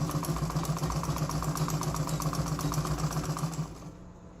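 A sewing machine runs a loop stitch down a fabric dress seam, its steady rapid mechanical whir near and continuous before easing off at the end.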